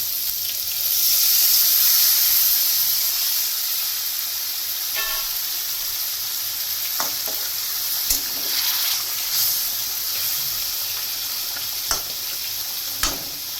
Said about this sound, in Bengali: এখন আমি জল দেবো অল্প